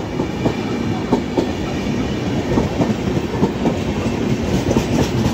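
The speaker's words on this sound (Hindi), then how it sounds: "ट्रेन निकल चुकी है अपने सफर पर नासिक रोड से, और अब ये देखिए क्या स्पीड हो गया है 2 सेकंड में।" Riding aboard the CR Rajdhani express as it speeds up out of Nashik Road, a steady loud rumble of wheels on rail carries rhythmic clickety-clack beats from the track joints, heard from inside the moving train with no voices.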